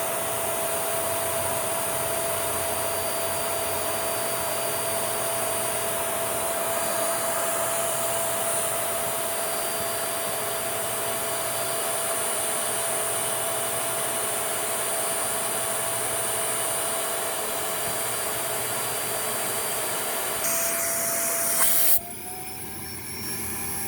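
A Shark vacuum cleaner fitted with a HEPA filter runs steadily during an airflow test, a loud continuous whooshing roar with a thin whine, unbroken until a brief shift near the end.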